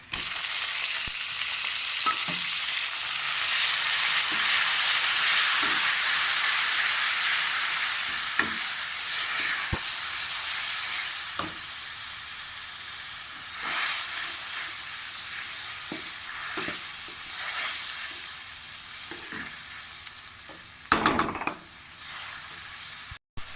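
Onions and masala fry in a pan for a taro curry, giving a steady close sizzle broken by repeated scraping stirs and spoon taps that carry on for a long stretch with no voices.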